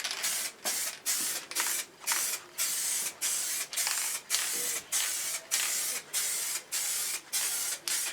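Repeated bursts of spray as a coat of liquid wrap goes onto Triumph Tiger motorcycle parts in a garage, roughly a dozen steady hissing passes of about half a second each, separated by short gaps, loud and close with no talking.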